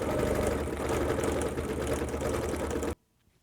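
A sewing machine quilting a flower on the last quilt square, a steady, fast mechanical whirr and clatter close up that stops abruptly near the end, leaving near silence.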